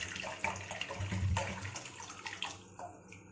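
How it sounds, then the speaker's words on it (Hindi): Half a litre of water poured into a vessel to make an Ayurvedic herbal kada, a steady close splashing rush lasting the whole stretch with no voices. "मैंने यहाँ पर आधा लीटर पानी लिया है सबसे पहले"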